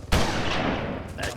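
A gunshot in the video game Halo cracks out sharply near the start, followed by a rumbling tail and a second, softer shot near the end.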